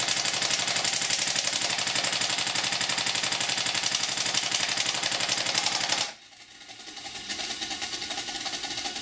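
An A&K PKM airsoft light machine gun fires a long, dense automatic burst. The rapid rattle is loud and close, then cuts off abruptly and resumes as a quieter mechanical whir.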